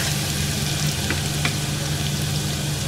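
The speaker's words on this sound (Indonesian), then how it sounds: "kalau udah panas banget, kita masukkan bawang putihnya" Garlic fries in very hot oil in a pan with a steady, loud sizzle and crackle and a couple of sharper pops, heard up close with no voices.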